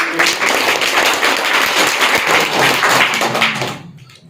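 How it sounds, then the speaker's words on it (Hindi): Dense, steady applause from a school audience at an International Mother Language Day event, loud and continuous for several seconds before quickly dying away. "जोरदार तालियां"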